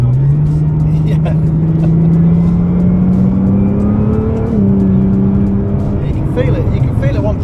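A Nissan GT-R engine drones steadily as the car accelerates, its pitch rising gradually then dropping at a gear change, heard from inside the cabin under people talking.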